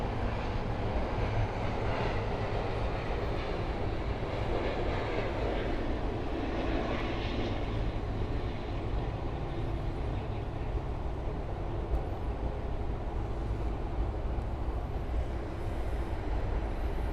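An Air France airliner arrives at Miami airport, its jet engines a steady, broad roar that holds at an even level throughout, distant and unbroken, with no voices over it.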